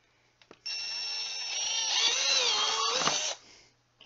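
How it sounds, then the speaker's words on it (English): A power drill bores out the middle of a hole for a DIY powerwall build: a couple of short taps, then a steady high whine that rises in pitch and cuts off after about three seconds. "So we're gonna take this and drill out the middle of the hole."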